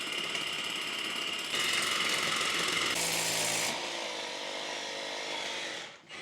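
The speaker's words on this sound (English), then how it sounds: "So I'm going to drill down, hope we don't hit anything, hope it doesn't come through on the flat roof opposite." Electric drill boring down through a roof with a larger bit during a house rewire, a loud continuous whine with the pitch shifting as it bites deeper, then easing off and stopping briefly near the end.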